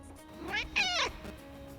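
A cat living at Pervushin airfield meows nearby, first a short chirp and then a longer, rising-and-falling meow, over a faint background hum.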